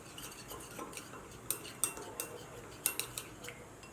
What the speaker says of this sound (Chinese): 往玉米生内先加入一点清水，搅拌均匀